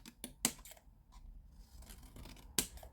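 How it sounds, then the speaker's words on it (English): Scissors cut through scored card, giving a few sharp, close snips with quieter rustling of the card between them, no talk. "Then all we're going to do is just cut up these score lines here"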